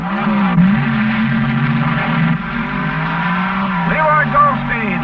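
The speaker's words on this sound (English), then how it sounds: "His tires were spinning" Nitromethane-fuelled funny cars roar off the line at the 1970 NHRA US Nationals drag race at Indy, a loud sustained engine blare with tires spinning and a brief rising squeal near the end, under an announcer's voice.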